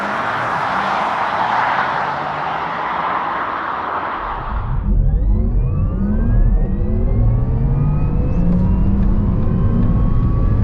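A Porsche Taycan Turbo S accelerates hard from 100 toward 200 km/h on the Autobahn. A steady whine climbs in pitch alongside loud road and wind rush, heard from inside the car with no talk.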